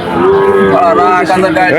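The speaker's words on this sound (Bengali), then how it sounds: "হাটে বিভিন্ন রকমের গরু আসে" A cow moos loudly and close by at a cattle market, one long drawn-out bellow with a wavering pitch that fills the whole moment.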